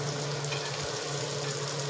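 Bitter gourd slices sauté in a pan with a steady, close sizzle and a faint low hum running underneath, continuous throughout with no speech.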